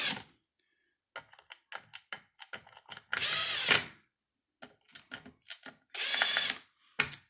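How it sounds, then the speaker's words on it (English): An electric screwdriver starts screws into a battery backup unit in two loud sustained whirring bursts, close by, set among sharp ratcheting clicks and small handling taps with quiet gaps in between. "I'm just going to use my electric driver to just barely get these started to save some time"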